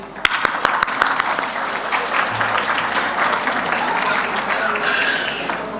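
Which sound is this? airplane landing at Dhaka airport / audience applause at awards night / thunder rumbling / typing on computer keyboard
audience applause at awards night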